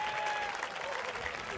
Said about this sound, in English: A nice hand from the crowd here for Shelby Handberg.